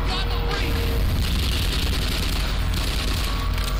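Rapid laser gunfire in the Xen stage of the Black Mesa video game, a dense continuous barrage of shots with loud booming layered over the top.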